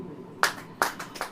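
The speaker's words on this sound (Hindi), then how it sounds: "ताली बहुत नमकीन बज रही है।" A church congregation claps hands in a few loud, sharp bursts spaced about a beat apart, close and without talk.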